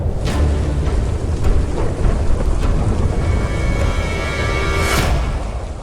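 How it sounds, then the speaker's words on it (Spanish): Heavy rain pours steadily with rumbling thunder and gusting wind, a dense, loud storm roar throughout with no voices. "se convirtió en un rudo tiempo de tormenta, viento y lluvia"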